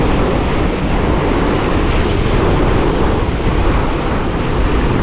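Waves surge and break continuously against a rocky shore on the east Izu coast, a loud, unbroken roar of churning surf mixed with wind buffeting the microphone.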